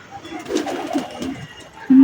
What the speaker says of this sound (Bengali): হ্যালো কবুতর, হাই কবুতর, হাই হাই করে দাও